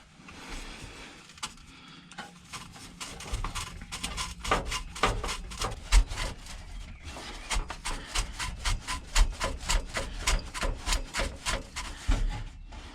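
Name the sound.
tightening exhaust clamp on Golf 6 GTI exhaust line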